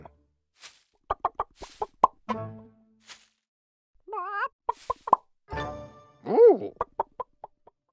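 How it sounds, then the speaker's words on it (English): A hen clucks in short, spaced bursts mixed with plopping sounds and a few longer warbling calls, close and clear against a quiet background. "That chicken is behaving very strangely."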